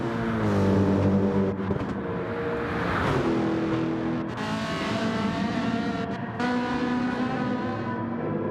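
Race car during WEC 6 Hours of Monza qualifying, a loud, close engine roar holding steady with a rising pitch sweep as it passes, then continuing to drone, with no talk.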